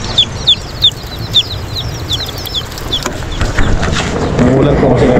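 Baby chicks sold at a barangay fiesta stall give a run of quick, high peeps in the first second and a half, then fade beneath a rising wash of broadband noise.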